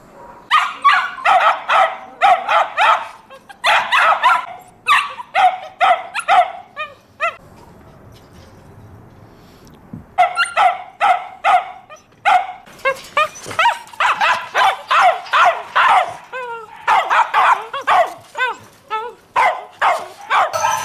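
Many dogs at a busy dog hotel bark in rapid, overlapping volleys, loud and close, with a short lull in the middle before the barking resumes just as intensely.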